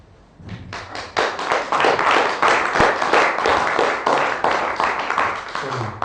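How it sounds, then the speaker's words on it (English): Audience applause following a panel presentation on Bitcoin hash rate and double spending, a dense burst of many hands clapping that starts abruptly and holds steady and loud to the end, with some thumps mixed in. "a big applause for Nicolas Courtois and for for giving his presentation"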